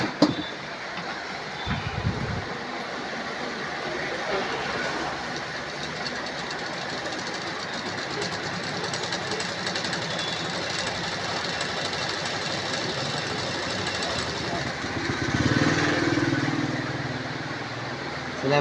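Electric sewing machine stitching fabric with a steady, close mechanical whir and rapid needle rattle that runs continuously, briefly louder near the end.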